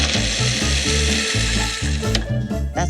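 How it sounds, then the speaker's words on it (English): Chopped walnuts, half a cup, ground on low speed in an electric grinder, a loud close motor whine with a steady pulsing chop-and-rattle rhythm as the nuts tumble, continuous throughout. "I have 1/2 cup of chopped walnuts. And we're also going to grind them right up. You just want to put them on a low speed."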